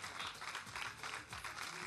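Audience applause at a festival award ceremony, steady broadband clapping sustained throughout at a moderate distance with faint music-like tones beneath.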